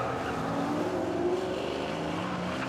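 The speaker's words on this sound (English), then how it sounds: "We've got a Mustang locking up." A 1965 Ford Mustang Fastback race car braking hard with wheels locking at the Chateau Impney hill climb, a distant engine drone and brief tire squeal under crowd ambience.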